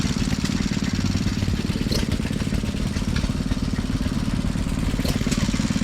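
A restored John Deere A tractor engine running steadily at an outdoor tractor show, a continuous close, loud low chugging idle without pauses.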